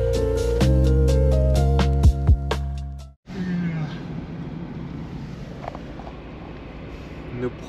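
A Land Rover Defender drives on a road in Iceland, a steady close engine and road rumble with wind noise that follows a burst of music cut off partway through.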